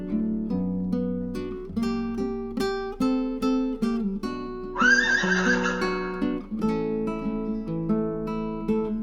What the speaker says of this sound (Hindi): घोड़े ने अपने आका के पांव की चाप पहचान ली और जोर से हिनहिनाया।